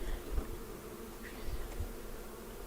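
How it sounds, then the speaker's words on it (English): Honey bees hum in a steady, low drone around an open hive, with the buzz continuous and close and no talking over it. "this year, for the first time, April has her own hive that she's managing"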